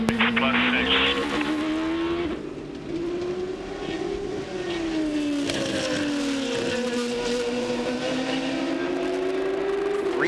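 Penske Porsche sports-prototype race cars scream around Laguna Seca during an American Le Mans Series race, a loud onboard engine note rising and falling through gear changes while a commentator talks over it.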